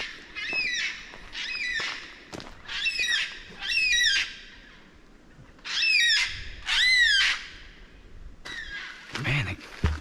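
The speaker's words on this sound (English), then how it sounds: "I wish I could identify what bird that is" Birds chasing each other in an Australian state forest give loud, repeated whooping, hooting calls in bursts, some close, with quieter gaps and a sharp clatter near the end.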